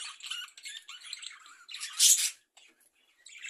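Pet budgerigars chirp and sing in a home aviary, a busy close chatter of bright warbling, tweets and squawks with one loud burst near the middle, then a brief pause before the chirping resumes.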